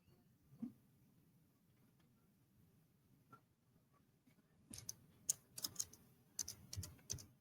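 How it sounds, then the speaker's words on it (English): Quiet keyboard typing comes in short bursts of clustered key clicks in the latter half, after a mostly hushed stretch with a few faint knocks. "I'm typing on the next one."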